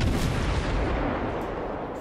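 Guns on an American destroyer, the Mahan, fire in a naval battle in World of Warships, a heavy booming blast with a long rumbling tail that slowly fades, loud and alone.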